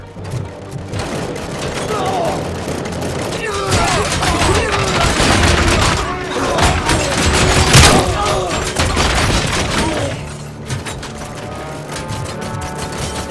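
Gunfire in the video game Robocop: Rogue City, dense bursts of shots and heavy booms that swell into a loud barrage midway, with shouted voices mixed in.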